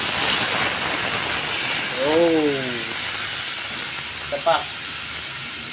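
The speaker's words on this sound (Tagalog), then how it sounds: "Mga boss, lutuin na natin sa kawali" Pork belly (liempo) frying in a pan with Sprite gives a steady, close sizzling hiss throughout, with a voice speaking briefly partway through.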